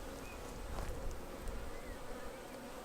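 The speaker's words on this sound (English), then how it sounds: "The box is full of bees at the bottom." Honeybees in a nucleus colony box full of bees, a steady, faint buzzing hum with no voices over it.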